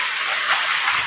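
Steady rain falls on the roof of a small hut in a rural setting, a dense, even hiss that holds for the whole moment with no gaps or voices.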